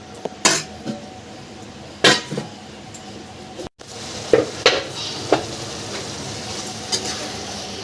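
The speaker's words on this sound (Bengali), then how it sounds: "মশলার মধ্যে ক্যাপসিকাম বাটা টমেটো বাটা আদা জিরে বাটা আর পেঁয়াজ রসুন ভেজে মশলাটা ফোটাতে দিলাম" A ground paste of capsicum, tomato, ginger, cumin, fried onion and garlic sputters and bubbles in a pan, with loud intermittent scraping and metallic clinks from stirring over a constant sizzle.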